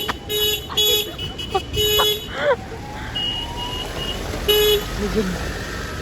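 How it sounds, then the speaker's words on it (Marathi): A car horn sounds in a few short toots on a road, a bright tone repeated at irregular intervals over traffic noise, with people talking. "आम्ही आमच्या गाडीचा हॉर्न त्याला ऐकवलं"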